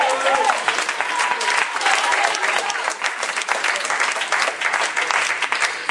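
A church congregation claps and cheers loudly for Jesus during a Haitian worship service, dense sustained applause with shouts running the whole time at close range.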